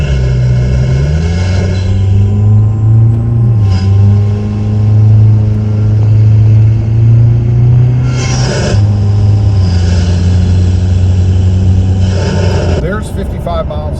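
Car engine fitted with a Banks intake heard from under the hood while accelerating to 55 mph, loud droning intake note rising through several gear shifts with brief dips between them.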